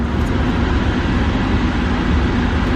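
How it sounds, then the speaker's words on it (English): A Mazda RX-7's radiator cooling fan running with the engine off, a steady, loud whirring drone with a broad rushing hiss, continuous and unchanged from start to finish, no voices. "The fan should turn on as soon as I even put the keys in without the engine on."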